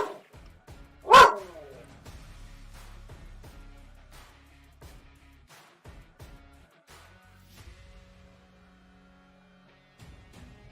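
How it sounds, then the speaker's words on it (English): A small pet dog gives one sharp, loud bark up close, then a faint string of quieter yips and barks, heard over low background noise. "Sorry, that was my little dog."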